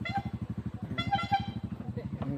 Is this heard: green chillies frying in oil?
no